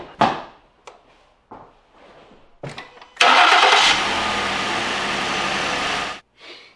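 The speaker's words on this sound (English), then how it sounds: "So we're just going to start it, let it run for, just a few minutes" A Ford Duratec V6 car engine cranks after a few clicks, catches with a loud roar, then settles into a steady idle before cutting off.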